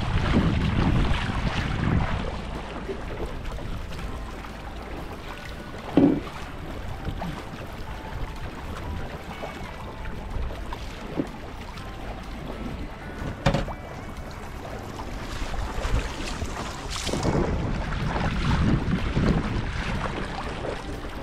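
Steady wind buffets the microphone with low rumbling gusts over open water on a lake during sailboat launching, swelling louder at the start and again near the end, with a few brief knocks.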